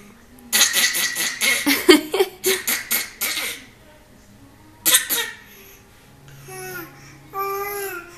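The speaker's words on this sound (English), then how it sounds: "That's that goofy half laugh, half cough you do right now." A baby's goofy half laugh, half cough in several bursts of breathy vocal sounds, followed by soft cooing babble, close to the microphone.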